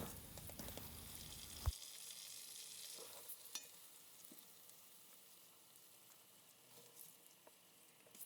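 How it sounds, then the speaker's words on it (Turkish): Rice being stirred and toasted in melted butter and oil in a pot, a soft steady sizzle with a sharp scrape near the start and faint clinks of a spoon throughout. "Yağı erittikten sonra üzerine pirinci ekliyoruz."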